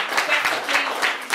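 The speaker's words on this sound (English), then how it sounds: "we have to give her a big round of applause" An audience applauds a woman at a 2012 Black History Month special event, with irregular claps in a close, moderate burst and a voice partly audible beneath.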